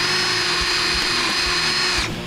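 A power drill runs steadily with a high whine for about two seconds as screws are driven into a chimney fitting during a timed outdoor survival competition, then the motor winds down.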